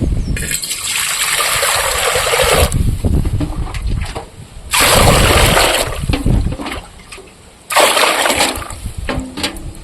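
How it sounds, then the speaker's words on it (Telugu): Colocasia (taro) leaves are washed in a bowl as water pours in, heard as three loud, close bursts of running, splashing water separated by short quieter gaps. "ఒక గిన్నెలకి నీళ్ళు అయితే వస్తున్నాయి కదా శ్యామాకు నీట్గా అయితే కడుక్కుందాం"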